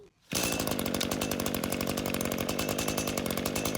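An Echo SRM two-stroke petrol string trimmer sputters and catches after a brief pause, then runs steadily at a loud, buzzing idle with a rapid rhythmic pulse.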